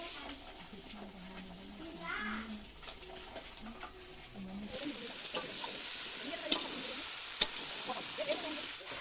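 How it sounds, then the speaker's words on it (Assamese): Fish fries in a pan with a continuous crackling sizzle and occasional sharp pops, while a voice talks over the first half. "মাছ ফ্ৰাই কৰি হৈছেগে আৰু অলপমান আছে"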